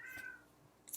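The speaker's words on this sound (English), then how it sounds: "You can hear my cat Sandy in the background." A house cat gives a single short meow in the background of a quiet home knitting session, faint and distant, followed by a little rustling.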